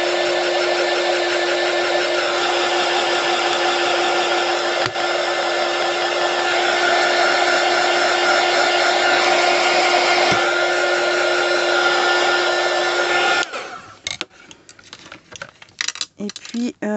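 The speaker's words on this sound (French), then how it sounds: "Alors, je vais sécher un peu le fuchsia." A hair dryer dries fuchsia paint on a mini art journal page, a loud steady whir lasting about thirteen seconds before it cuts off, followed by scattered small handling clicks and taps.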